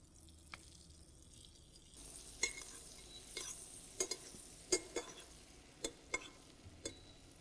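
Carrot glazing in butter in a pan: a quiet, low sizzle with a handful of sharp utensil clicks and taps scattered through it, getting slightly busier after the first couple of seconds.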